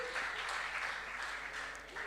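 An audience claps for a school team at a regional junior science and maths quiz, the applause steady and fairly loud for about two seconds with no talk over it.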